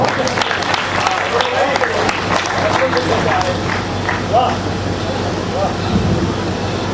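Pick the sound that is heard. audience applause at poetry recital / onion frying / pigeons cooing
audience applause at poetry recital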